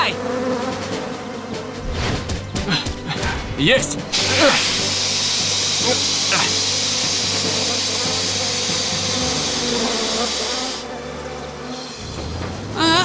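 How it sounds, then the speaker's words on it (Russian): A cartoon bee swarm gives a loud, continuous buzzing drone that fills most of the scene and holds steady before cutting off near the end, with brief character speech and other cartoon sounds mixed in. "Пчелиный рой возвращается!"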